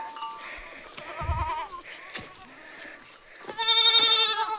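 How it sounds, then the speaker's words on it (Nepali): Goats bleat repeatedly on a village farm, several wavering calls close by with a louder burst of bleating near the end, alongside some rustling and a low thump. "यता चाहिँ बाख्राहरू छन्।"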